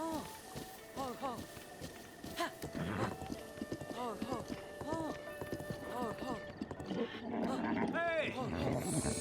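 Rhythmic clip-clop hoofbeats of a horse galloping in Breath of the Wild, with neighs and game sounds layered over a steady background.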